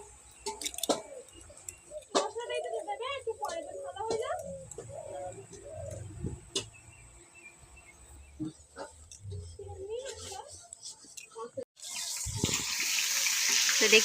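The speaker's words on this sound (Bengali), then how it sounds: "চলো এবার স্নান করবো আমরা।" Water from a tap starts gushing loudly into a tub for a bath near the end, after a stretch of someone talking with birds cooing in the background.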